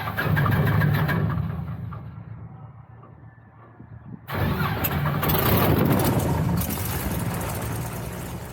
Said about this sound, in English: That is a beautifully sounding engine. It's a Lycoming AEIO 540 producing 260 horsepower.